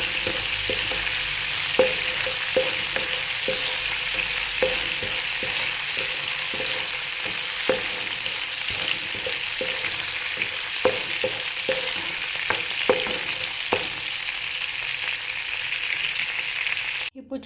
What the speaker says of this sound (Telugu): ఆయిల్లో ఫ్రై చేసుకోండి.